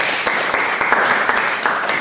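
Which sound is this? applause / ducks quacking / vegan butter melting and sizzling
applause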